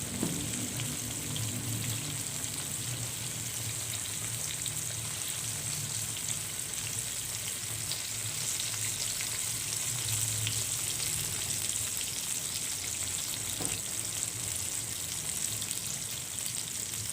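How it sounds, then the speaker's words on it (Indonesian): Crispy flour-coated tempeh frying in hot oil over a high flame gives a steady, loud, close sizzle with crackling and spatter that runs unbroken for the whole stretch, with no talking. "Kemudian dilanjut menggoreng tempe ini sampai nanti bagian bawahnya sudah mulai berwarna kecoklatan ya."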